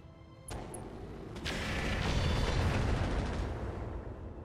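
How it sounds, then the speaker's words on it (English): Missiles fired by allied vehicles in the RogueTech mech video game, a sudden launch followed by a swelling rumbling roar of blasts and impacts that builds and sustains before easing off. "Our vehicle allies will toss a few missiles in at him."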